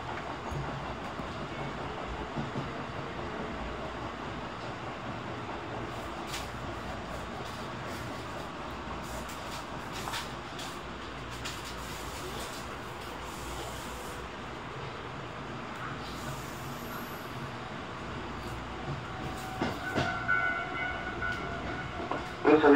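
Tobu Noda Line express train bound for Omiya, running between Unga and Atago: a steady rolling rumble of wheels on rails heard from onboard, with faint clicks and a brief louder swell near the end.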